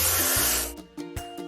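A cartoon spray can hisses in one continuous burst of paint spray, bright and close, then cuts off into a few short soft puffs and clicks.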